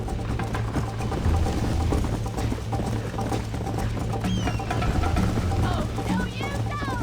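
A horse gallops in the video game Red Dead Redemption, a steady rapid clip-clop of hooves running throughout at moderate level, with a person talking intermittently over it.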